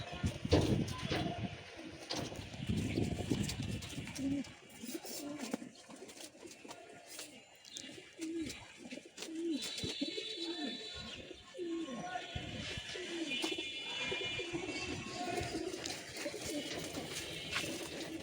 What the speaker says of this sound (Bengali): সবগুলো কবুতর খাঁচায় পরে ফেলা হয়েছে